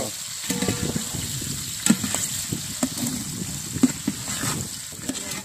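Oil sizzles and spatters steadily in a pan as green chilies and onion fry for chicken biryani, with scattered sharp pops over a continuous frying hiss.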